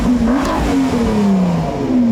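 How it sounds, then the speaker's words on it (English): A Ford GT Carbon Edition's twin-turbo V6 revs hard and loud, its tone rising and falling through sustained pulls at close range, with no voices over the engine. "That's a pretty awesome sounding V6."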